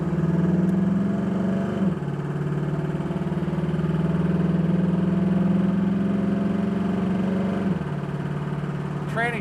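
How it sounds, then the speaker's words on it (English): 1969 Chevrolet Camaro Z/28 engine idling, a steady, close rumbling idle with two short dips in pitch, as if briefly blipped or loaded, then settling back, loud and alone with no talk. "Car's idling real nice. It's not wanting to stall out."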